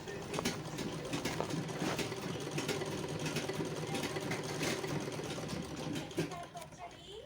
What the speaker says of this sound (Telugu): ఇలా రౌండ్గా స్టిచ్ చేసేసుకోవాలి